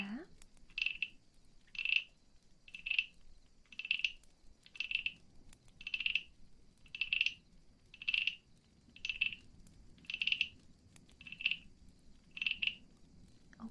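Frog croaking in a steady rhythm, about a dozen short, clear trilled calls roughly one second apart, close and fairly soft against a quiet background.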